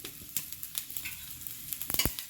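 Coriander, ginger, garlic and garam masala fry in a little oil, a soft low sizzle broken by a few scraping stirs of a spoon in the pan.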